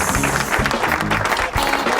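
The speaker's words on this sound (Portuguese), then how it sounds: "Palmas!" Studio audience clapping breaks out for a returning guest on a talk show, a dense, steady round of applause that lasts the whole moment, mixed with a low murmur.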